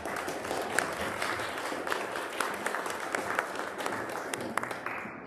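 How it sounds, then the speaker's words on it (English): An audience applauds a volunteer walking up on stage at a live event, a dense spread of clapping from many hands across the room that holds steady throughout. "you'll get a big round of applause for standing right here"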